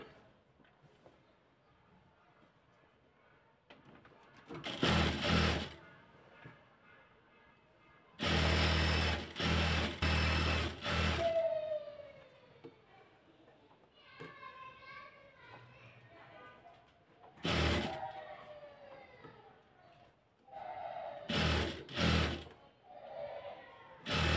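A sewing machine stitching lace onto the neckline of a garment, running in several short loud bursts with pauses between, while children's voices and chatter sound in the background.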